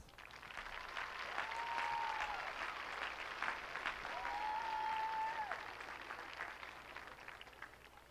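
Graduating seniors of a high school class of 2014 applaud at their commencement ceremony, a sustained crowd of clapping that swells and stays steady for several seconds with a few whoops, then slowly thins out.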